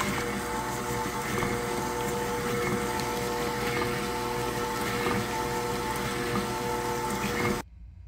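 Brownie batter of melted butter, white sugar and brown sugar is mixed with a loud, steady churning whir. It runs without a break and cuts off abruptly just before the end.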